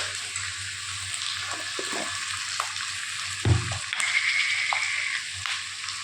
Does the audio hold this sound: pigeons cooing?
no